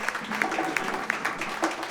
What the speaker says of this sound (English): Can I have a special round of applause again for Nick Moran?